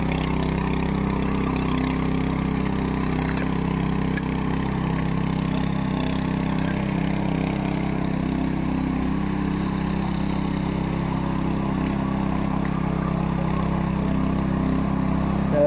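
A tractor engine runs steadily and close by through a rice field during transplanting in the Konkan, a constant low idling drone with no breaks and no talk over it.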